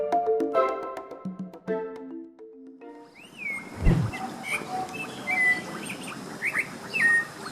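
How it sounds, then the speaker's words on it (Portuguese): A sabiá thrush sings in a forest clearing near a crop field, clear whistled phrases repeating at a moderate distance over soft background ambience, preceded briefly by other tonal sounds. "Esse pássaro que está cantando aí, o sabiá"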